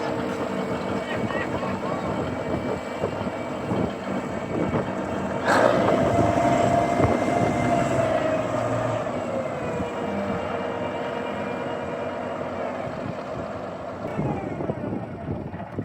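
A Canadian-American Steiger tractor drives with a continuous engine drone that swells sharply into a louder whine partway through, then settles back, while people talk nearby.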